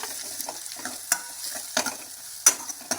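Garlic paste sautéing in a pan with fried onions for a spicy green pea curry, a soft steady sizzle broken by a few sharp scrape-and-stir clicks, close and alone with no talk.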